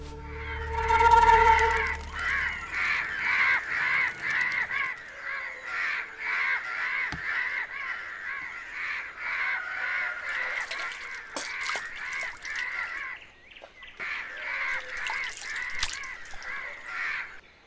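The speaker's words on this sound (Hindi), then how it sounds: "ये कौवा तो बहुत परेशानी करता ही है।" Crows in a Cochin street scene caw over and over in harsh, ragged bursts, loud and close, almost without pause, with no voices heard.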